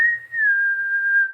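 A person imitates a loud whistle heard back in the woods, giving one long steady whistled tone that holds near one pitch for over a second and dips slightly partway, clear and close with no talk.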